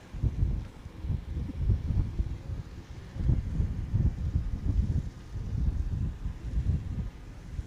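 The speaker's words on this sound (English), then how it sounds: "you can hear the wind picking up" Wind gusting across a footgolf course at a world championship in Acapulco, a low rumbling buffet on the microphone that swells and eases in waves, with no talking.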